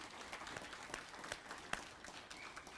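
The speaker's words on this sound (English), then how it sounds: "Let's give them one big round of applause for all the work they've done." An audience at an evening reunion gala claps in a faint, distant round of applause. The clapping is dense and steady and runs for a few seconds, with no voices over it.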